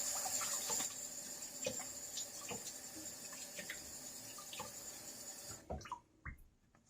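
Cold water runs steadily from a bathroom sink tap before a wet shave, a continuous close hiss with small splashes and drips, cut off abruptly near the end.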